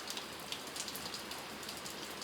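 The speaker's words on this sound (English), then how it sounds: "Look at the rain. Look how hard it is." Heavy, cold rain from a thunderstorm pours steadily onto surfaces and puddles, a dense constant hiss dotted with individual drop spatters, fairly faint and with no voices.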